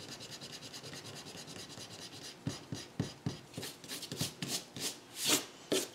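A math instructor erases marks from a board, first a steady soft rubbing hiss and then a series of quicker scratchy back-and-forth strokes, faint and close.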